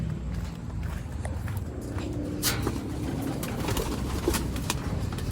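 Racing pigeons in a flock settling down, with soft low cooing and scattered wing flutters and clicks against a quiet outdoor background.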